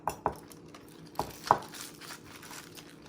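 A knife chops green onions on a cutting board as noodle toppings are prepared: a few sharp, distinct taps, two quick ones, then a pause and two more, close up with no talking.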